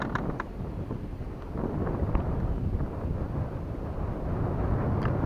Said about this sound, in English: That's that wind remnants from the hurricane.